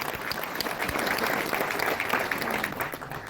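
Dense, steady applause from an audience at a large convention of local youth surveyors in Narmadapuram, continuous clapping throughout with a faint murmur of crowd noise beneath.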